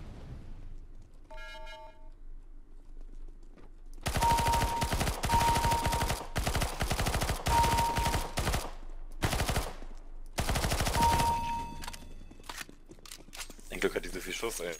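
Rapid automatic gunfire bursts in Counter-Strike: Global Offensive, loud clattering volleys repeating over several seconds with short pauses between, after a brief quiet start.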